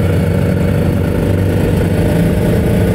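A two-stroke Kawasaki Ninja 150 motorcycle engine runs loud and close, a steady, raspy, buzzing drone that holds evenly throughout.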